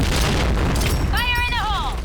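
Grenade blast in the first-person shooter Point Blank, a loud booming explosion at close range followed by a brief tonal in-game sound, with a voice over it.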